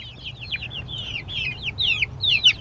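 Chickens out on grass outdoors give a steady run of overlapping high chirps and clucks, several birds near and close together, growing louder toward the end over a low rumbling background.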